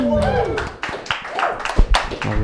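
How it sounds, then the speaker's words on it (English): A small comedy quiz-show audience gives sparse, lukewarm clapping as a guest walks on stage, with scattered individual claps over a talking voice. "Tepid applause."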